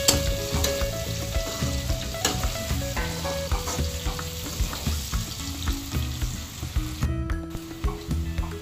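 Carrots and potatoes frying in oil for a chicken curry, with a steady close sizzle and scattered crackles and pops throughout, no voices.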